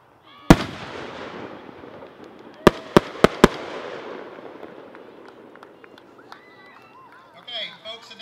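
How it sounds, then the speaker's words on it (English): A 4-inch exhibition firework shell with red and green flowers: a sharp launch thump, then a bright burst and a quick string of loud cracks, fading into a long rumbling echo under crowd noise and talk. "that's a 4-inch shell"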